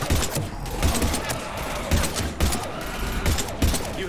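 Heavy gunfire in the video game Mass Effect 3, a fusillade of overlapping shots with a few sharper bursts standing out over dense battle noise, while a voice calls out briefly amid the combat.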